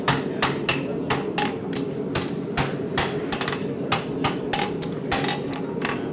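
A farrier's hammer strikes steel on an anvil in a steady series of sharp, ringing blows, roughly two or three per second, moderately close, with no talk.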